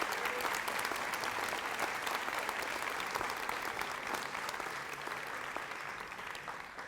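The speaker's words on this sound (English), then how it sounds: "Let's give him another round of applause" Sustained audience applause at a high school Hall of Fame induction ceremony, dense clapping from a large crowd holding steady for several seconds and easing slightly toward the end.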